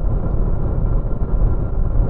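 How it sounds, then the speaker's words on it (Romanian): Inside a Dacia Lodgy 1.5 dCi cruising at 130 km/h in sixth gear around 2250 rpm, a steady low engine drone blends with broad wind rush, continuous and even with no talk. "din partea motorului nu aud zgomote deranjante, zgomote însă importante la vânt"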